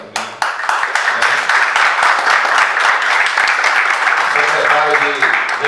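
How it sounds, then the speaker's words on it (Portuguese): Applause and clapping from an audience at a refereeing course event in Vera Cruz fill the whole stretch loudly and steadily, with a voice talking over it. "Palmas para mim."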